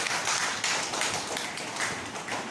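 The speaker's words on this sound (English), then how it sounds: "Clap for Neha." A classroom of young students claps for a classmate, a dense, continuous wash of many small hands patting at moderate distance with no talking.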